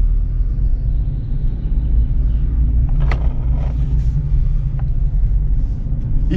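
A Fiat Punto converted into a 25 km/h moped car creeps along slowly, its engine giving a steady, close, low rumble throughout, with a few faint clicks and knocks over it.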